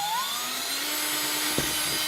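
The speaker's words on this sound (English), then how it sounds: "we're gonna go ahead and drill that out, and we'll start from the rear with our smallest drill bit" Small drill bit boring into a plastic fog light bezel on a Ford Mustang Power Wheels ride-on, a steady high whine with a rising tone at the start and a brief catch near the end, close and alone.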